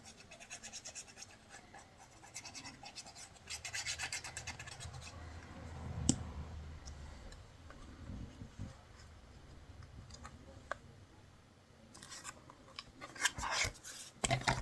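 A hand presses and rubs glued mirror paper onto a raised scrapbooking surface, giving soft, irregular scratching and rasping strokes up close with occasional small ticks and a brief burst of sharper rubbing near the end.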